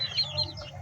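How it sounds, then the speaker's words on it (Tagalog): Young white chicks on a farm give short, high peeping chirps, a few quick calls close by in a brief burst. "Ito po ang ating mga sisiw mga ka-farming na white."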